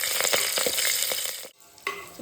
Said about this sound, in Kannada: ಸಾಸಿವೆ, ಜೀರಿಗೆ ಹಾಕ್ತಿದ್ದೇನೆ.